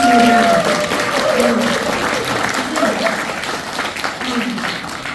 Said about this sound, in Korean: 여러분 뜨거운 박수 한번 부탁드리겠습니다.